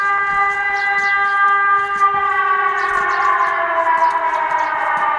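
A civil defense warning siren being tested in Sumy wails in a long sustained tone, slowly rising, loud and carrying from a distance outdoors.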